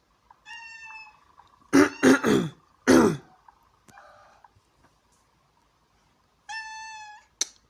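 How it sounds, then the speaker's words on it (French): Cat meowing close by, two drawn-out harmonic meows at the start and end with a burst of rough throat-clearing or coughing sounds in between, over a quiet background. "le chat n'était pas prévu"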